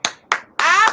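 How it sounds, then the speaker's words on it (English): Clapping rings out in a few sharp, close claps followed by a brief burst of sustained applause, loud and dry with no talking. "I need y'all to clap because"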